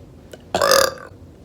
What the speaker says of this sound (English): I burp a lot.